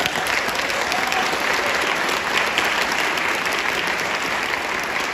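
Conference audience applause, a dense, even roar of many hands clapping continuously and loudly for the whole stretch, with no voices standing out.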